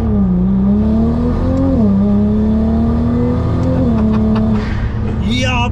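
A 1200 HP Nissan GT-R in Liberty Walk widebody form pulls hard under acceleration, its engine drone loud and steady, pitch rising and dipping with gear changes, and a brief sharper rise at the end.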